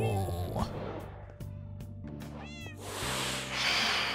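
Cats meow repeatedly in Minecraft, several clear, close, high meows following one another over about four seconds, mixed with game sounds.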